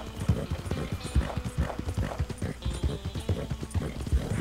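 Horse hooves clip-clop in a steady, close rhythm as a secondary horse is ridden through swampland near Saint Denis in Red Dead Redemption 2, with faint snorting beneath the footfalls.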